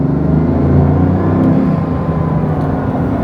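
A Bugatti Veyron accelerating hard along a coastal road, its engine giving a loud, steady rumbling roar with turbo whir, close and continuous with no voices.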